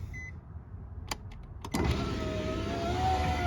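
A new car's power window motor, a replacement unit that sounds somewhat weak, starts after a few clicks and runs as a steady whirring whine for over a second and a half while the window closes, close up and alone.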